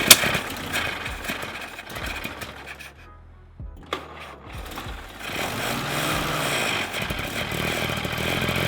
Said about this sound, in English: David, the carb does not work at idle speed